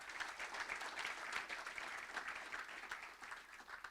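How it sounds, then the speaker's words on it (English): An audience at an evening event at the St. Regis in Doha claps in steady, even applause, a dense spread of many hands, heard from some distance and fairly quiet. "So give them a round of applause."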